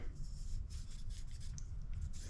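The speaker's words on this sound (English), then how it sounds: "it's still going to take some sanding by hand to get into some of the really tight grooves" Close, steady rasping strokes of sandpaper rubbing by hand across wood into tight grooves, repeating in short back-and-forth passes with no talking.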